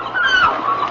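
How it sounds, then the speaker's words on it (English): Birds calling in a garden setting within a radio drama, a steady bright chirping and whistling that runs continuously at moderate loudness through the moment. "Oh, listen to those birds."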